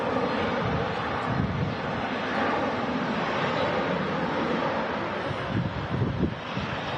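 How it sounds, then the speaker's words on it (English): Steady wind rushes across the microphone in a broad, continuous roar, with gusts that rise and fall, at an airport on a blustery day. "Yeah, it is getting windier progressively."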